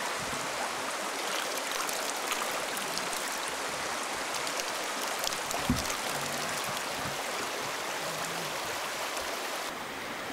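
Stream of drinking water flowing beside a remote cabin in Norway, a steady broadband rush and gurgle that stays constant throughout, close and unbroken with no talk.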